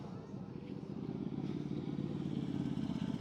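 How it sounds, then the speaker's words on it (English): A Ducati 899 motorcycle at an outdoor bike night, a steady low engine rumble that builds slightly in loudness, heard from nearby with crowd noise behind it. "Nice looking, clean Ducati. I think that's an 899."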